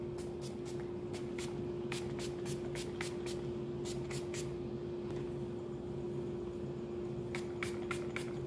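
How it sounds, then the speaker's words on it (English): Dry Bar Liquid Glass smoothing sealant sprayed onto hair in a series of short hissing bursts, several in quick runs with pauses between, close and fairly soft over a steady background hum. "I'm going to use this dry bar spray."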